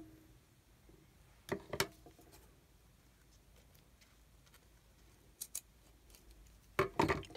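Small cutters snip a chain for a journal spine dangle, with a few crisp, close clicks in short pairs separated by quiet pauses.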